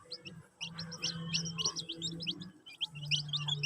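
A brood of eight newly hatched chicks peeping in rapid, high, repeated chirps, close and fairly loud, with soft low clucking from the mother hen beneath them.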